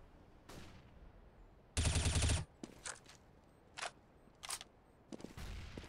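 Gunfire in a Counter-Strike match at ESL One Cologne 2015: one loud sustained burst, then several short scattered shots at lower level.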